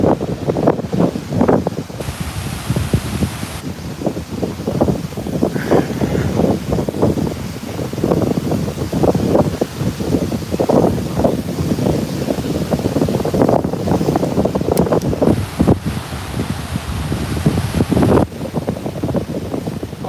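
Strong wind blowing outdoors near a work truck at a roofing job, a loud, constant buffeting roar with gusty swells and rumbling microphone noise, with no voices.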